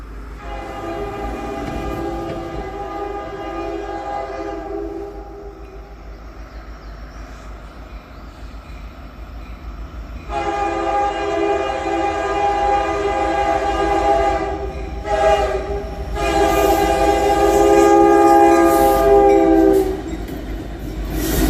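A freight train led by three Canadian National EMD locomotives, two SD70MACes and an SD70M-2, rolls past close by with a loud rumbling drone, sounding long chords of its horn in several blasts.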